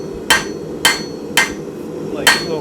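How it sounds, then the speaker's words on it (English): A blacksmith's hammer, held choked up for small work, strikes hot steel while forging bo shuriken throwing spikes: four sharp, ringing blows at a steady rhythm, close and loud over a constant low roar. "So I'm choked up quite a bit on my hammer."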